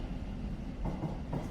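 A train sits at or moves along a London station platform beside the Thames, giving a faint steady low rumble with soft rail clatter and a couple of brief swells near the end.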